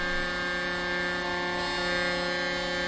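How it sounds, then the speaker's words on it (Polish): Truck air horns blaring in a convoy in a trucking video game, a loud sustained multi-tone honk holding steady for several seconds, close and alone with no talk. "O, klaksony, fajnie."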